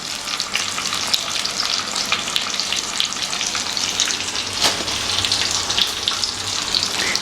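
Fish frying on a flat tawa with curry leaves scattered on top, giving a steady, close, crackling sizzle throughout with no pauses and no voices.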